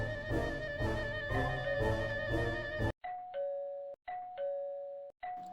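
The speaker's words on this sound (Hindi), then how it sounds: "जोरों से डोरबेल का स्विच बजाना शुरू कर दिया" A doorbell chimes loudly and insistently, its switch pressed again and again in quick succession with brief gaps between the rings.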